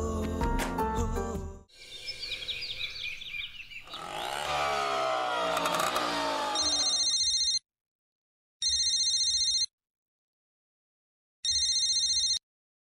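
A telephone rings in a domestic TV-drama scene: after loud music and a cluttered burst of noise, three loud electronic rings sound alone, each about a second long, separated by clean silences.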